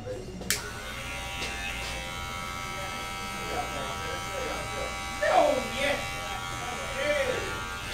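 A hair clipper fitted with a number one guard trims eyebrows, a steady close electric buzz running the whole time, while a voice talks over it.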